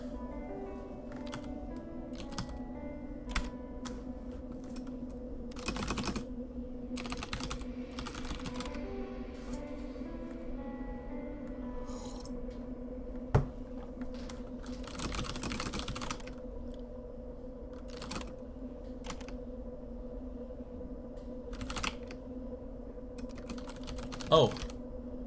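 Computer keyboard typing during a video game session, scattered clusters of clicking keystrokes with pauses over steady game music and hum, close and moderately loud, with brief talk at times.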